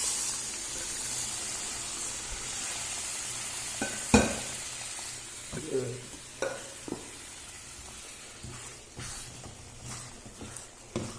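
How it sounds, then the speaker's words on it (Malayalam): Boiled green peas are stirred into cooked masala in a pan for green peas curry, a soft sizzle running throughout with scattered scraping stir sounds and one sharp clatter. "ഇപ്പം നമുക്ക് വേവിച്ച് വെച്ച ഈ ഗ്രീൻ പീസ് അതിൽ കഴിക്കാം."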